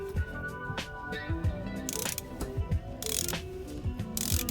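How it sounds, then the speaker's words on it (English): A small electric motor, the convertible top pull-down motor of a flood-damaged Cadillac Allante, whirs and grinds with repeated mechanical clicks and ratcheting, interrupted by brief bursts of louder buzzing, fairly close. "You can hear some motors making noise already. I think it might be the pull down motor for the top"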